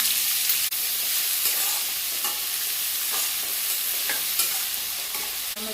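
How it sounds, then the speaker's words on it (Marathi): Finely chopped onion fries with cumin seeds and curry leaves in a pan, a steady close sizzle broken by repeated scraping stirs. "जिरं, कढीपत्ता आणि बारीक चिरलेला कांदा"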